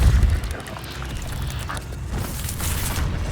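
Depulso spell cast in Hogwarts Legacy: a brief, deep boom right at the start, then a softer rushing, rumbling wash of magical noise that lingers at moderate level.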